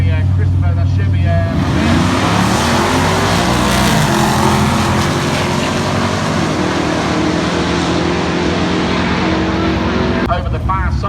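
A big purple Chevy Impala drag car at a street drags meet roars loudly down the strip, its engine note climbing and then sustaining. A voice talks over the noise.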